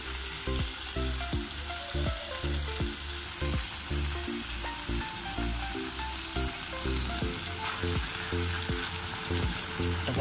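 Chicken feet stew for kalderetang paa is stirred in a frying pan, frying with a constant sizzle while a utensil scrapes the pan in a steady, busy rhythm.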